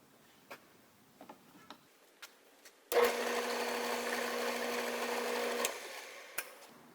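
Drill boring a hole near the end of a piece for a tool panel: a few faint ticks, then a sudden steady whir of about three seconds that stops abruptly, followed by a single click.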